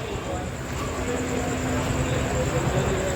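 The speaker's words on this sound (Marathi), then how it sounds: "तर मित्रांनो, आपली आता ट्रेन आलेली आहे" A passenger train pulls into a station on the Konkan line, a steady loud rumble of wheels and carriages filling the whole moment, with no clear talk over it.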